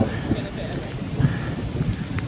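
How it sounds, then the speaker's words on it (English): Rain falls during a thunderstorm overhead at a wildlife park in Yorkshire, with a dense, close rush of rainfall and low rumbling underneath, with no clear speech. "if you can hear that, the thunderstorm is now overhead"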